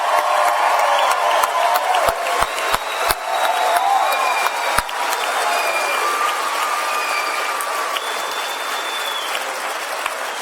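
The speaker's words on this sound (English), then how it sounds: "Please give this class one last round of applause." A graduation audience at Assets Academy breaks into loud, sustained applause with cheers and whoops, dense clapping holding steady throughout with a few sharper claps near the start.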